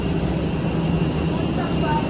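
A refuelling airplane sits at an airport while yellow fuel hoses top up its tank. A loud, steady engine and ground-equipment drone holds evenly throughout.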